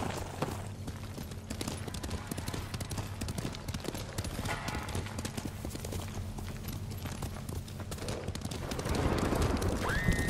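Horse hooves galloping in the Ghost of Tsushima video game, a fast steady clip-clop that runs throughout under rumbling game ambience and grows louder toward the end.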